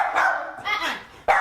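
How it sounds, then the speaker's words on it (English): A schnauzer gives a few short, sharp barks close by in a home, spaced in quick bursts with brief gaps between them, while a person talks at the same time. "to help you with your schnauzer, Mitt"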